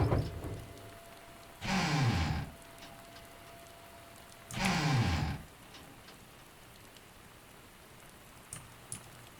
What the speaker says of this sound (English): I hear nothing other than rain